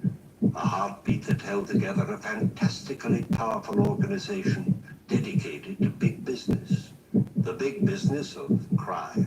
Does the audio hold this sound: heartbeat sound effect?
yes